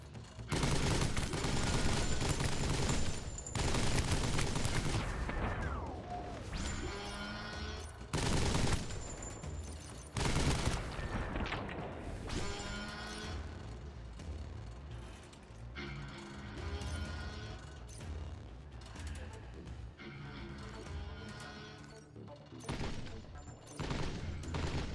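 Sustained gunfire from a gun with unlimited ammunition in the video game Death Stranding, loud dense bursts broken by short pauses, with mechanical clatter and game effects between volleys.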